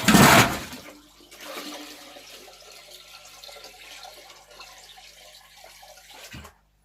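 Water gushes into a 200 litre home fish tank, starting with a loud splashing burst, then settling into a steady, softer pouring and trickling before stopping abruptly near the end.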